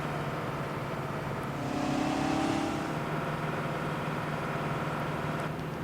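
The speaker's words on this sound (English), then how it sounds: "as we hear that engine firing up" A Big Bud tractor engine runs steadily in Farming Simulator 17, a heavy, droning motor tone with a brief swell in loudness near the middle and no voices.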